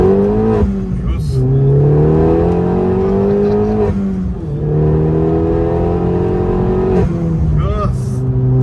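An Opel Corsa OPC hatchback pulls hard through the gears, its engine note climbing loudly in long sweeps with brief dips at each shift, heard from inside the car with occasional voices.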